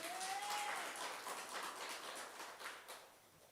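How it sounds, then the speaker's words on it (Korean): Faint applause from a church congregation during a Sunday worship service, soft scattered clapping that gradually thins out, heard from a distance. "박수 한번 하겠습니다."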